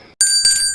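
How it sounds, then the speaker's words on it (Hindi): A bicycle-style bell rings loud and clear after a brief silence, its bright sustained tone striking twice in quick succession. "हमने सुनकर पहचान लिया कि ये घंटी बज रही है।"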